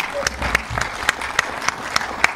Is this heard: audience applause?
yes